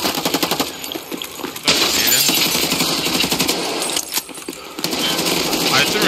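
A grenade blast in a multiplayer survival shooter erupts as a loud broadband burst, followed by sustained rumbling and gunfire, with excited players talking over it.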